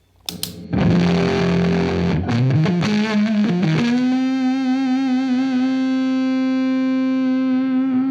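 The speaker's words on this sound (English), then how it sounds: "here's the germanium fuzz" Electric guitar through a cranked germanium fuzz pedal into a Friedman small box amp, a few picked notes then a held, buzzing sustained note ringing out loud and alone.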